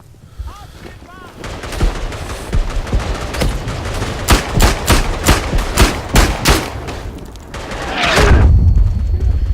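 Semi-automatic Luger pistol fire in the World War I shooter Verdun, a series of sharp close gunshots in quick uneven succession with other battlefield shots around them, ending in a louder rumbling blast.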